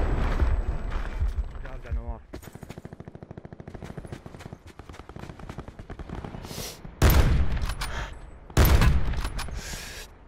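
Rapid bursts of automatic gunfire from a Call of Duty Black Ops 4 Blackout match, with loud bursts near the end, under excited voices of squadmates talking throughout.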